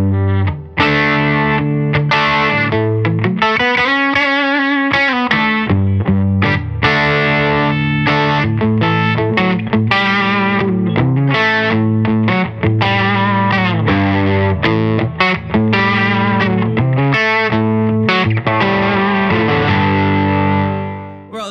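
Eastwood Breadwinner 12-string electric guitar played with a gainy, distorted tone, strummed and picked continuously at close range with dense shimmering chords and a chorus-like sheen, loud and steady with no talking.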